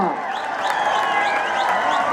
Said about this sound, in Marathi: टाळी वाजवून स्वागत करा